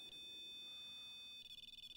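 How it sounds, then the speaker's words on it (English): An electronic device gives a low battery warning, a faint, steady high-pitched electronic tone that breaks into quick repeated beeps near the end, heard alone without talk. "we just stop what we're talking about to look at a electronic device beeping at us"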